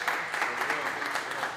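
Brief applause from an audience at an industry panel during a waffles weekend event, a steady wash of clapping hands at moderate volume, with a voice speaking over it.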